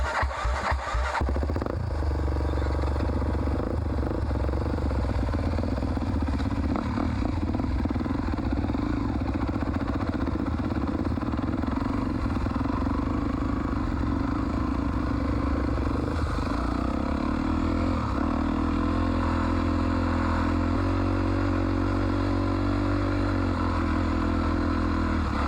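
Cross-country motorbike engine runs steadily over rocky ground for the whole stretch, a loud close mid-pitched drone with clattering bumps and throttle surges, no talk.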